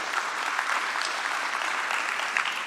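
Sustained applause from conference delegates filling a hall, a steady dense wash of many hands clapping at even loudness throughout, with no voices over it.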